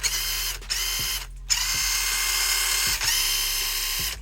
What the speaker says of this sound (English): That's the high-speed wheel spin there.